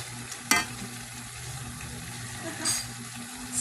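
A pan of ferns and shellfish simmering in coconut milk is stirred, with a steady low bubbling sizzle, a sharp clack of the utensil near the start and soft scraping strokes, no talking.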